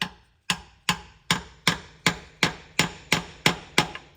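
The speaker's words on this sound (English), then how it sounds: "I'm gonna pop a hole in the bottom of this with this screwdriver and a hammer" Ten sharp metallic hammer strikes drive a screwdriver through an oil filter on a 6.7L Ford Powerstroke diesel motorhome, landing at a steady pace, each ringing briefly, close by with no talking.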